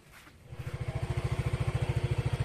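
A motorcycle engine idles close by with a steady, rapid pulsing putter that starts abruptly after a brief moment of quieter background and holds even and loud to the end.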